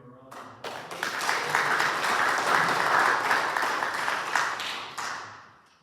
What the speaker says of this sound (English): And so we'll give him a round of applause.